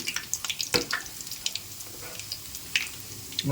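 Onion pakoda batter fries in hot oil, a steady close hiss with scattered crackles and a few sharp pops, no speech.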